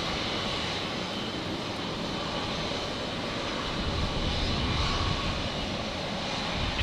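A Jetstar airliner departing Brisbane Airport roars steadily at full takeoff power, a broad continuous jet rumble holding loud and even throughout.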